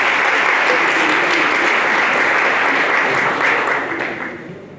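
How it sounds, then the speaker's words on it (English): An audience at an evening event gives a round of applause, sustained dense clapping that holds steady and then tapers off toward the end. "With a round of applause."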